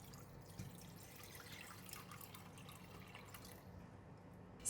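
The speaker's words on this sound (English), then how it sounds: "Put all the water in the pot." Water poured into a cooking pot while making a sayur manis soup with black fungus, a steady continuous wash of liquid running for several seconds at moderate, fairly distant loudness, with no talk.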